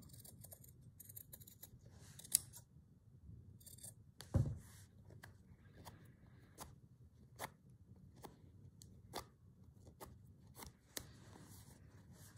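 Quiet, close snips of scissors fussy cutting around a printed fabric motif for slow stitching, a series of soft irregular cuts and rustles of cloth with no talking.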